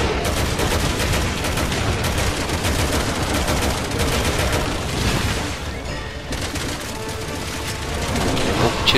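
Dense, continuous gunfire in Resident Evil 6, rapid bursts and booms rattling on without pause for the whole stretch, loud and close.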